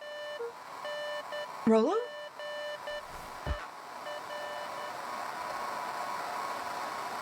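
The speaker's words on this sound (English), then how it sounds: "the Morse code is coming through the walkie-talkie again" Short, regularly spaced electronic beeps of Morse code come through a walkie-talkie in the video game Beacon Pines, set against a steady hiss of static. A voice speaks briefly in the middle, and a sharp chirp and crackle interrupt the signal.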